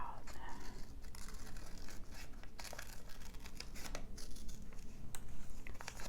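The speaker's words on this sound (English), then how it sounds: "Actually, I'll cut this side out." Paper for a red and gold collage is cut and handled up close, with soft crinkling, snipping and tearing textures throughout at a quiet, intimate level beneath gentle soft-spoken voice.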